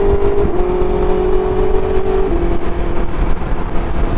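A BMW S1000XR motorcycle fitted with a Pro Race exhaust runs with a steady, loud engine tone and a brief held rev near the start, then settles into a rumbling drone with no voices.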